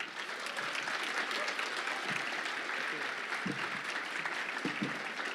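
Audience applause for a panel at a bilingual Welsh–English event, a steady wash of many hands clapping throughout, fairly distant and even, with a few louder nearby claps standing out near the end.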